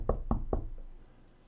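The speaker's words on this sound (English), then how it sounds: "you knock on the door" Three quick knocks on a door, close and solid, evenly spaced in a short burst, followed by quiet.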